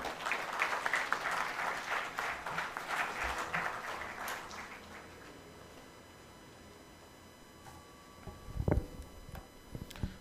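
Conference audience at an international development summit applauds a speaker, a thick burst of clapping that thins out after a few seconds into quiet room noise with scattered knocks and thumps.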